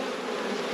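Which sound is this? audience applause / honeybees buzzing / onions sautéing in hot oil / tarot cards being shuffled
honeybees buzzing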